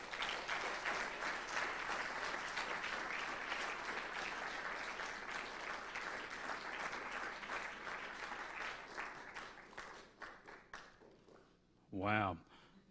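A lecture hall audience at Harvard applauds to welcome a speaker, steady dense clapping that slowly thins out and fades, followed by a single voice starting to talk.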